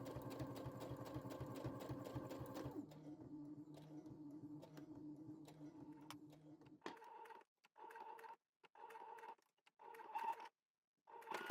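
A sewing machine runs edge stitching along fabric, a steady close mechanical whir at first, then dropping to a lower hum before breaking into short start-stop bursts of stitching separated by brief silences.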